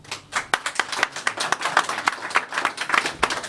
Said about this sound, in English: if you please clap again